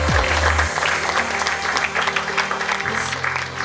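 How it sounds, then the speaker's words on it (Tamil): A hall audience at a Bhima Jewellery founder's day education event applauds, moderate scattered clapping that builds after a short musical note and continues beneath a low sustained hum. "ஒன் செகண்ட் நம்மளோட பீமா ஜுவல்லரிக்கு ஒரு மிகப்பெரிய கைத்தட்டல் கொடுத்துடலாம்."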